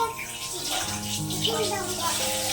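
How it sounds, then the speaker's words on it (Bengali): Tap water running steadily into a basin as a small child's hands are washed at home, close by, with someone speaking softly over the flow. "এসো হাত ধুয়ে দিই"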